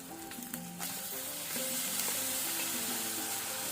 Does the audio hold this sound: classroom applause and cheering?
no